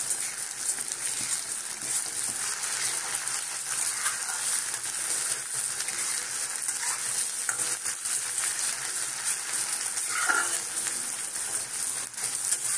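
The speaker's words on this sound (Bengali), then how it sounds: "এগুলো ভাজা হয়ে যাবে, লঙ্কাও ভাজা হয়ে যাবে," Onions and chillies fry in oil for lal shak posto, giving a steady, dense sizzle that holds at an even level from start to finish, with no voices over it.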